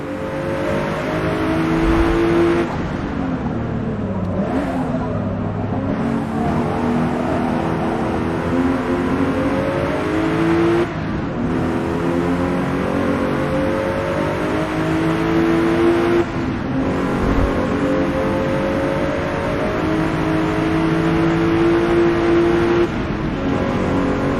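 Race car engine in the Forza Motorsport video game, loud and close, revving and shifting through gears with rising and falling pitch sweeps, a few brief lifts between pulls, steady and unbroken with no voices.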